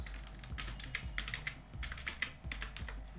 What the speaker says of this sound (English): So I'm typing Parallax Slideshow.